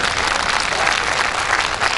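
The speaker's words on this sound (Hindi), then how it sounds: "कई बार तालियां बजा के बता दीजिए" An audience at a women poets' recital in Surat claps steadily, a dense, loud wash of applause that stays even from start to finish with no speech over it.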